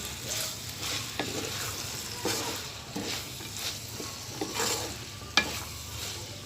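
Cabbage and mixed vegetables for Chinese biryani being stirred in a hot pan, a steady sizzle of frying with repeated scraping strokes of a spoon against the metal.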